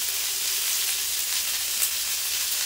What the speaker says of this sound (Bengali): ওই তেলের ভেতরে আমি পটলগুলো ভেজে নেব।